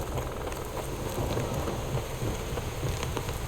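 Rain falls steadily in The Witcher 3: Heart of Stone, a dense, even hiss of drops close by with no talking.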